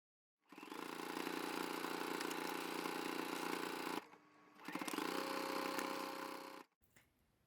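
A sewing machine runs a straight stitch at stitch length 3 through thick, bouncy scuba fabric, a close steady mechanical whir in two bursts with a short pause between them.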